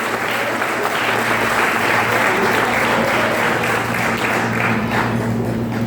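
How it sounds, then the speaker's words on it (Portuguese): Sustained applause from a church congregation fills the space, a dense, steady wash of many hands clapping at close-to-moderate distance with a low hum underneath. "Dê um aplauso de volta ao Senhor."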